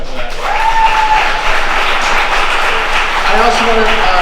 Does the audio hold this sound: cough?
no